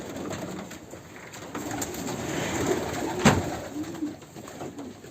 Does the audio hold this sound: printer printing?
no